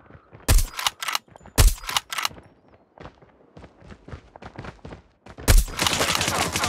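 Gunfire in the mobile shooter Call of Duty Mobile: several loud, sharp bursts of shots separated by quieter clicks and footsteps, ending in a sustained close burst.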